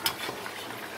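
Chicken pieces fry in a pan with oil, giving a steady, close hiss of sizzling with a brief stirring clatter near the start and no talking.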